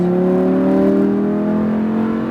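Lamborghini Huracan engine pulling hard on a race track at SpeedVegas, a loud, steady rising drone with strong harmonic tone, close and continuous without pause.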